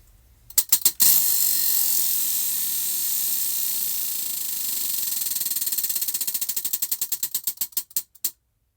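A clicking prize wheel spun to pick a crochet stitch: a rapid buzzing ratchet of clicks that gradually slows into distinct, spaced ticks before stopping, close and clear.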